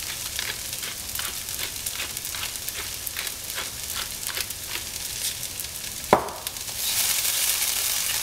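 Onions and chopped spinach fry in a pan with a steady, close sizzle, broken by regular light stirring scrapes, a brief sharp clatter near the end and a brighter hiss just after it.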